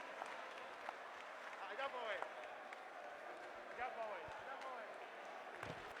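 An audience at a national science and maths quiz between secondary schools applauds the contestants' parents with steady, sustained clapping in a large hall, while a host talks over it.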